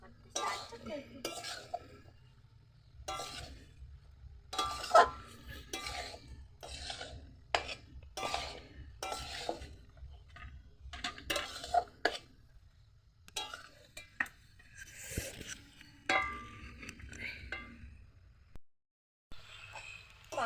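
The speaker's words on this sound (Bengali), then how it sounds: "মাংসটা কষানো হচ্ছে" Chicken being sautéed (kosha) in a pan for a chicken and cauliflower curry, heard as steady clinks and scrapes of a spoon against the pan, intermittent and fairly close, with a low hum underneath.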